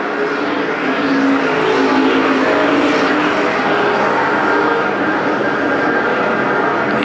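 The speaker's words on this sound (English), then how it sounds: "Pierce trying to go to the inside of Altman in turn number 3 for the 3rd place spot" Street stock race cars roar around Perris Auto Speedway, a loud continuous engine drone with rising and falling passes, close and dense throughout without a break.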